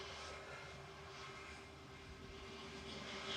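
An airliner taxis at Manchester Airport, its engines a faint, distant, steady whine and low rumble with a constant hum, unbroken and without voices.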